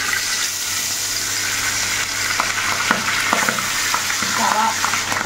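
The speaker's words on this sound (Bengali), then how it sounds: "আমার সর্ষের তেলের পরিমাণটা কম আছে বলে আমি সাদা তেল দিয়ে ফ্রাই করে নিচ্ছি।" Pabda fish fry in white oil in a pan, giving a continuous bright sizzle and crackle with occasional spattering pops, close and steady throughout.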